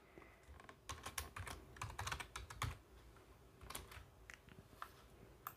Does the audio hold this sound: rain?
no